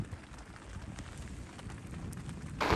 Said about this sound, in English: It is now raining on us